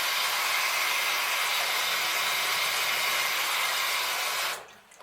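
Tap water runs steadily at full flow while Panasonic KX-TG4031 cordless phone parts are rinsed, a dense broad hiss that continues evenly before stopping abruptly near the end.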